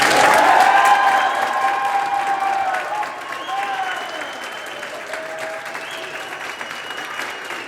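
An audience applauds and cheers loudly, with dense clapping and some whoops at the start that gradually thin and settle into steadier, quieter applause.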